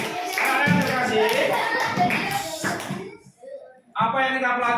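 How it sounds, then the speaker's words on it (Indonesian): Children in a classroom clap for a group, a burst of clapping mixed with voices and chatter, a short pause, then more clapping and talk. "Tepuk tangan untuk kelompok."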